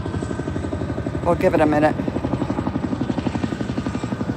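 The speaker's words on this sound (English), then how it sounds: "Told you I saw a helicopter or heard a helicopter, and it was large." A large helicopter thumps overhead with steady, rhythmic rotor beats that stay loud throughout, while someone speaks briefly over the noise.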